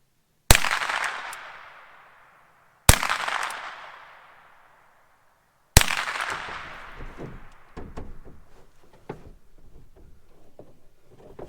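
Three sharp gunshots from a first gun fired at targets, each a loud, close crack with a long ringing decay, spaced a few seconds apart, followed by lingering clatter and scattered smaller knocks.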